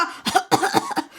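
Several harsh, throaty coughs burst out in quick irregular succession close to the listener, each a short breathy rasp, with no talking around them.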